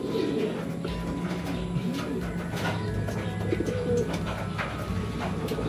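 Racing pigeons being basketed for a road toss coo repeatedly in low, rolling phrases, close by and steady, over a busy loft background.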